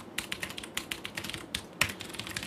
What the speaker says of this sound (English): Maybe I'll just type my ending credits as we go.